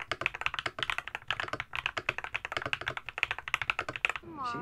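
Fast, steady typing on an Akko Monsgeek MG108 full-size mechanical keyboard, close and clear, with dense clacky keystrokes in quick bursts and no talking.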